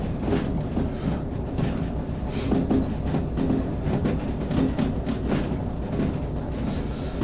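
Locomotive hauling train cars along rails in Derail Valley, a steady clickety-clack rumble of wheels over track joints that continues throughout, fairly close and loud with no talking.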